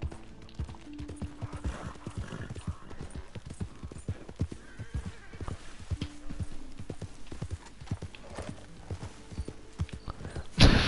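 Rhythmic horse hoof clip-clops trot along steadily in Red Dead Redemption 2, with occasional whinnies and neighs; a game soundscape, no talking.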